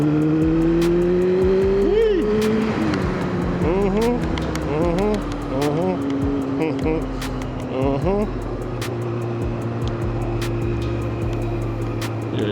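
A 2002 Yamaha YZF R6 motorcycle pulls hard in third gear, its engine note climbing steadily under wind rush, with a rider's voice talking over the close, loud drone.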